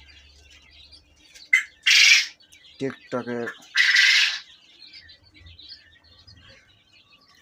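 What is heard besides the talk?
young quails chirping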